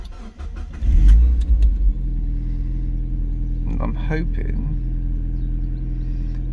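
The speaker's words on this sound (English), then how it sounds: "start the car." A Mazda MX-5 engine cranks and catches with a loud, close burst, then settles into a steady low idle hum. Someone speaks briefly over it.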